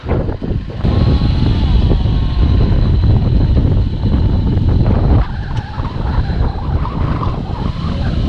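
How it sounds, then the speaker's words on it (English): A stuck vehicle on loose ground, on a camel-riding trip in Mauritania, revs loudly and steadily with its wheels spinning, a continuous close roar under heavy wind noise that eases slightly partway through. "Oh, that is one stuck vehicle."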